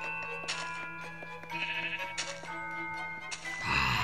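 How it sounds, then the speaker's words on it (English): Sheep bleating in a survival video game, several wavering bleats in quick succession over a steady droning background music bed, clear and moderately close. "Where's that sheep going?"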